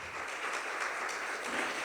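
Clapping from a church congregation during a Spanish-language Christian service, a steady, even wash of many hands heard alone for a couple of seconds, fairly loud and close.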